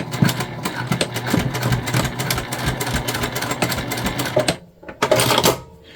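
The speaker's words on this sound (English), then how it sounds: "So we're just going to sew a line straight across." A sewing machine runs a straight line of stitching across fabric, a steady, rapid mechanical chatter close by that stops briefly near the end before a short final burst.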